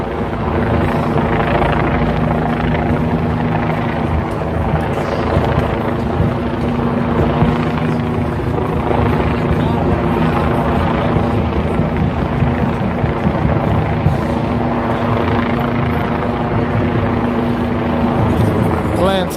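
Loud, constant rotor chop and engine drone from a helicopter hovering directly above a Manhattan street, steady and close, with faint voices buried beneath.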